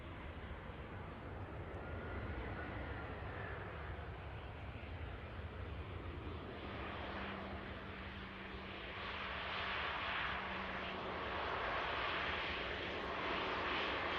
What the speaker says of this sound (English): EasyJet's Airbus A320 just landing on the 2-3 right.